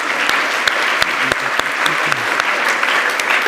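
A church congregation on a mission trip Sunday gives a round of applause, dense continuous clapping from a full room with a few sharper claps standing out, loud and sustained.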